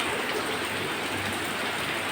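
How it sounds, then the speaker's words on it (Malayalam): Heavy rain pours down outdoors in a steady, even hiss of drops on surfaces. It sounds soft and fairly distant, with no voices. "നമ്മുടെ ഇവിടെ മഴയാണ്, മഴ തന്നെ"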